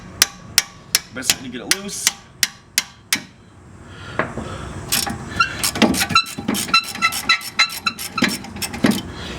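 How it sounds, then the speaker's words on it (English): Ten sharp metallic hammer blows on a brake rotor of a Ford Fusion in a steady rhythm, then a pause and a looser flurry of clanking strikes, with a brief spoken remark. "hammer on it"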